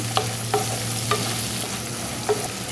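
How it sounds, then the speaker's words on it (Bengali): Chopped onions and green chilies fry in a pan with a steady, close sizzle, broken by a few soft scraping stirs, with a low hum underneath. "আবার পেঁয়াজ আর কাঁচামরিচ এগুলি একসাথে একটু ভেজে নিব আমি।"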